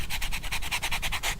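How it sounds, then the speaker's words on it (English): A diamond-encrusted metal sanding plate, 36 grit, scrapes across a surface in a rapid steady rhythm of about a dozen even back-and-forth strokes, close and continuous with no talk. "Just sands it right down"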